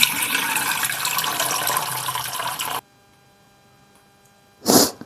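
Water streams steadily into a pressure cooker in a home kitchen for a few seconds and then stops, followed by near silence and a short clatter near the end.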